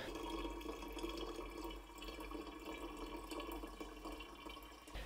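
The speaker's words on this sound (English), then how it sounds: "I'm going to keep adding water like that" Water trickles and splashes steadily as it is poured into the water tank of a Thunder Laser Nova 35 100W laser cutter, a continuous near pour lasting several seconds with no speech.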